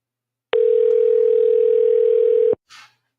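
Telephone call to a Washington, D.C. office, heard as a single loud steady tone lasting about two seconds that cuts off abruptly, followed by a brief soft hiss.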